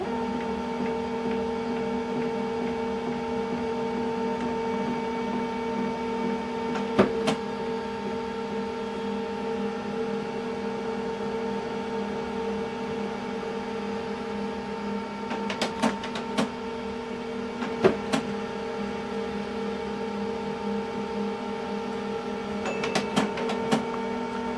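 An HP LaserJet Pro MFP 3302fdw laser printer hums steadily through color calibration, its tonal whir holding level while sharp mechanical clicks and clacks break in at a few points, no voices present.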